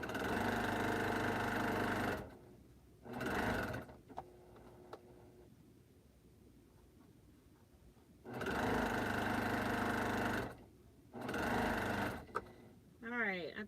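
A sewing machine stitches quilt pieces in several bursts of steady running, each a couple of seconds long, separated by quiet pauses with some talk in between.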